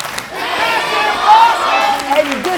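Wrestling crowd at a live match cheering and shouting steadily and loudly, a roaring mass of voices with scattered yells rising near the middle.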